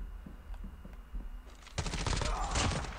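Rapid hip-fire gunshots from the COD Mobile battle royale game burst in loud and dense after a quieter stretch with scattered distant shots, continuing as sustained close bursts.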